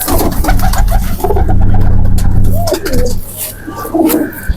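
Golden kabootar pigeons coo in low, repeated throaty calls close by, steady through most of the stretch, with a few higher chirps and faint background noise.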